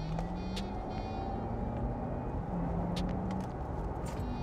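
Porsche Taycan 4S electric car accelerating hard, a faint rising electric whine over heavy road and cabin rumble, continuous and steady, with no talking.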